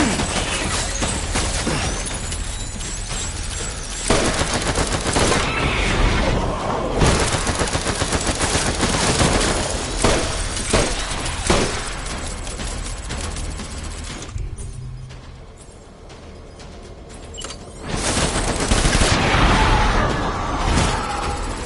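Dense, continuous gunfire fills a Death Stranding battle scene, with rapid automatic bursts, single shots and impacts layered over a loud, busy mix that briefly thins before the shooting resumes.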